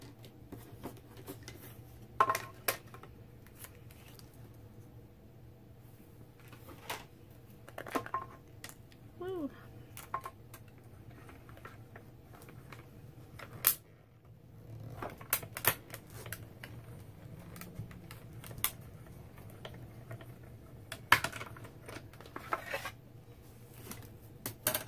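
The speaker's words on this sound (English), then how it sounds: "now we're going to run it through our die cut machine." Card paper feeding through a die cut machine for handmade ocean-themed cards, a quiet scattered run of clicks, rubbing and mechanical taps spread over time, with spoken voice faintly present at times.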